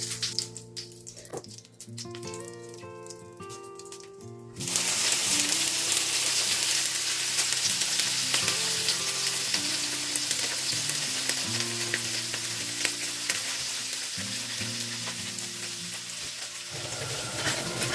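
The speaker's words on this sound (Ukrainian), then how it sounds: "Поки в мене там креветки смажаться" Shrimp frying in a pan: a dense, loud sizzle starts abruptly after a few seconds of quieter humming, then crackles on steadily.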